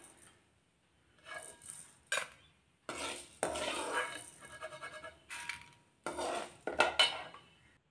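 A spoon stirs urad dal frying in oil in a pan for chutney, giving scraping clinks against the metal in irregular bursts over a faint sizzle, close and fairly quiet, with no talk.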